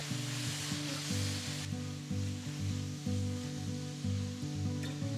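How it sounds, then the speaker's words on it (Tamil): Chopped tomatoes and onions sizzle steadily in a hot pan, a continuous frying hiss over a low droning hum, with no talking. "ரெண்டு தக்காளி பொடியாக நறுக்கினது போட்டு ரெண்டு நிமிஷத்துக்கு வதக்குங்க"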